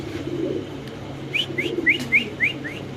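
A short series of about six soft, evenly spaced pigeon calls at a pigeon farm rises over a steady low hum of background noise.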